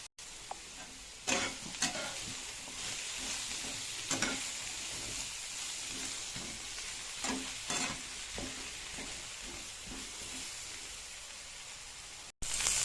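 Steady hissing sizzle of eggplant with a little turmeric frying in oil, continuous and close, with occasional scraping stirs and spatters.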